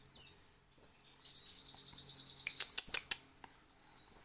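Morning birds chirp close by, with short high tweets followed by a fast, rapid trilling run and a few sharp calls, separated by brief silences.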